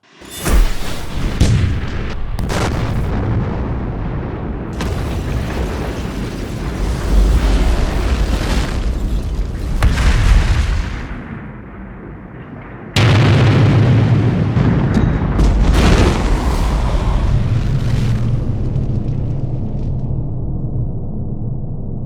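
Large explosion from the film Mad Max 2, a loud sustained blast with roaring low rumble and crackling debris, followed by a second heavy boom midway that keeps rolling to the end.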